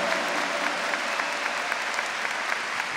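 An audience applauds in a church setting, a dense, even patter of clapping hands held at a steady, moderate level for a few seconds without any voices on top.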